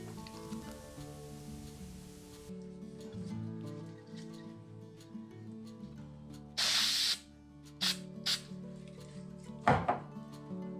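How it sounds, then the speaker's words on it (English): Spray adhesive hisses onto leaves in three short bursts, loud and close, against a quiet background hum. "So what I decided to do instead was use a spray adhesive."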